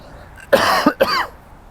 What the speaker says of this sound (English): I covered my mouth while I coughed